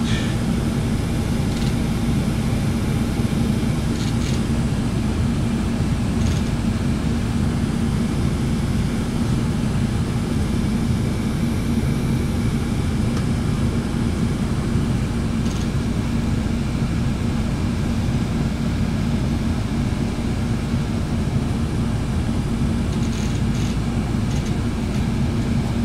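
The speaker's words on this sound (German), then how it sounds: "Im Landeanflug ist da ein Großraumflugzeug." Steady, loud engine rumble at Düsseldorf Airport as a wide-body airliner comes in on landing approach, a continuous low drone heard from a tour bus with faint clicks now and then.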